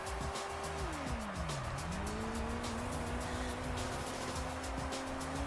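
A prototype race car in Gran Turismo 3 revs high, its pitch dipping on a downshift and then climbing and holding as it runs hard, with tire squeal and other cars mixed into the game sound.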